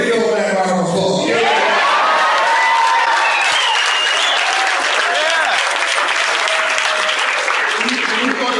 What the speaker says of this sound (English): Give your man a round of applause.